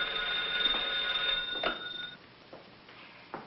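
An old telephone bell rings in a home, a bright trilling ring that cuts off after about two seconds, followed by faint quiet movement.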